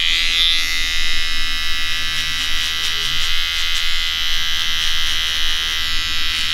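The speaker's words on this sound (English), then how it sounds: "I'm going to start the trimmer line at exactly where I stopped with the clipper" Electric hair trimmer buzzes steadily and loudly close up while lining a skin fade in a barbershop, a constant high whine with slight wavering as it moves against the hair.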